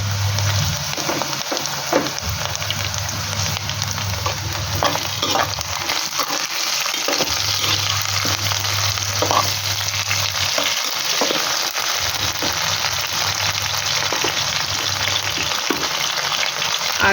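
Ginger-garlic paste fries in a kadai while chicken kosha is made with turmeric, salt and chicken masala, giving a loud, continuous sizzle broken by occasional stirring scrapes and a low periodic hum underneath; no one speaks.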